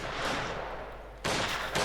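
Maxim machine gun fire in the strategy game Company of Heroes 2, a loud sustained burst of rapid shots with a second burst starting abruptly near the end, heard alone without talk.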